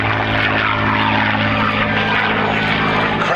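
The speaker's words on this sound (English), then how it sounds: "Listen to this. Rolls-Royce Merlin engine from the right." P-51 Mustang with a Rolls-Royce Merlin engine flying past at an air show, a loud, continuous propeller roar with a deep throbbing drone that holds steady and close throughout, with no talk over it.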